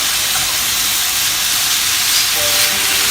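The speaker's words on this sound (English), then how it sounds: "We're just going to brown it a little bit to give the soup a nice flavor." Steak browning in a pot with bacon fat for steak and ale chowder gives a loud, steady, close hiss of sizzling that holds evenly for a few seconds with no talking.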